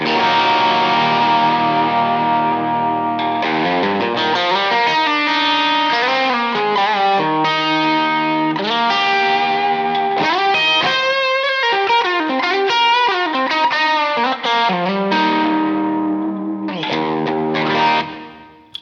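A distorted, high-gain electric guitar, a Jaguar on its bridge pickup, plays a flowing lead line with sustained notes and quick runs, thick and saturated, with no talking.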